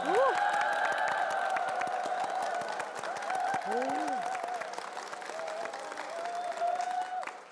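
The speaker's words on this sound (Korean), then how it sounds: "얼굴이 뻘겋게 상기가 되도록 그런- 박수를 치시네요" A church congregation applauds together during a televised worship testimony program, steady sustained clapping filling the room with a tonal musical or voice layer running underneath throughout.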